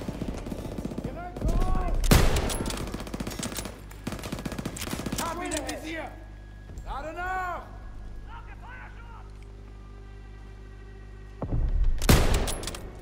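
Call of Duty WWII D-Day mission gunfire: bursts of machine-gun and rifle fire come in loud clusters with quieter stretches between, alongside voices and other battle sounds.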